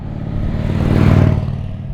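An Indian Chief Vintage cruiser motorcycle with a Euro 5 Plus-restricted engine rumbles past, swelling to a peak midway then fading, a loud, steady mechanical drone alone without voices.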